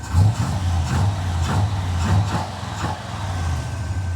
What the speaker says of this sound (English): there's your 383 stroker, small block Chevrolet engine